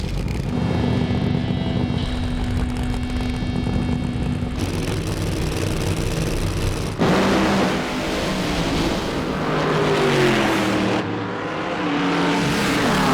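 Loud, continuous engine roar of a John Force Funny Car drag racer pulling back after its burnout at a drag strip, with rising and shifting harmonic tones and crowd-level racket throughout.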